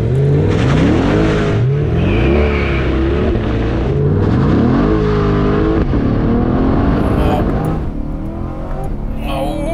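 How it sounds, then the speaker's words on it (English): A Chevy Corvette Z51 with a small-block V8 accelerates hard, its loud engine note climbing through rising revs with brief dips at gear changes. It is heard close from inside the car, with a voice briefly audible. "the Corvette gets to 60 miles per hour, a full second ahead of the Cayman GTS"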